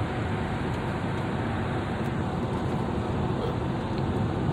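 A 2009 Chevy Tahoe LT rolls along a bumpy road with the AC on, giving a steady, even drone of engine, tire and road noise heard from inside the cab without talk.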